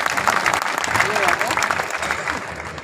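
Crowd clapping at a farmers' victory gathering in Kheri tehsil, a dense continuous patter of hands with voices talking over it throughout.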